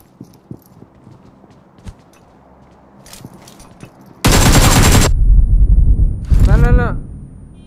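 A loud, continuous burst of automatic gunfire from an online battle-royale match cuts in after a quiet stretch, followed by a second rapid volley and a rising electronic effect, with faint game clicks and footsteps beforehand.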